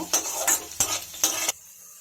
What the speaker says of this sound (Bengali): এর মধ্যে দিয়ে দেব চীনাবাদাম 1 চামচ। এটা ভালোভাবে আমি নেড়ে নেব।